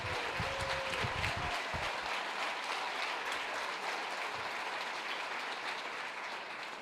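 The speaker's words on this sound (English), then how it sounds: "Stand up and give our great governor a round of applause." An audience at a Pickens County town hall kickoff rally applauds for the governor, a steady wash of clapping heard at a distance and fairly faint, with no speech over it.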